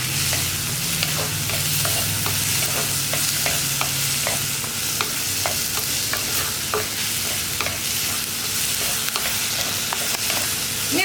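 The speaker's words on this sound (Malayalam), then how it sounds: "ഇതെല്ലാം ചേർന്ന് നന്നായിട്ടൊന്ന് ഇളക്കി" Okra, tomato and green chilli are stirred in a clay pot for moru curry, with repeated scraping strokes over a steady close sizzle and no voices.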